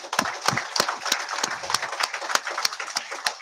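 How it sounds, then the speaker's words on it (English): A crowd at an elementary school visitation applauds the Kingfishers with scattered, uneven claps at moderate loudness and no talking over them. "So give yourself a round of applause, Kingfishers."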